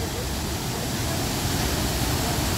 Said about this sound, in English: So there's two waterfalls.